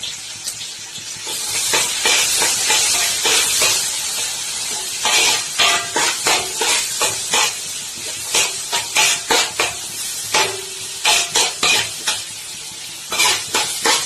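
Spices being stirred into a hot cooking pan sizzle steadily up close, with a loud continuous fry hiss broken by repeated scraping strokes of a utensil against the pan, no voices present.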